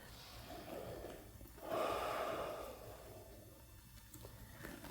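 Slow, deep breathing during a seated chair yoga twist, a soft drawn-out inhale swelling into a fuller breath and then a long gentle exhale, close and quiet.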